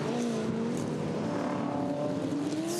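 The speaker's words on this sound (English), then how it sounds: "Here's the BMW. Just overcooking it." A BMW race car runs too fast into a corner on a track, its engine note holding steady and fairly loud with a faint tire sound and no talk.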